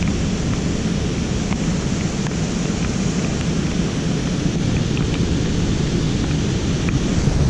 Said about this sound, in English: it's actually a warm rain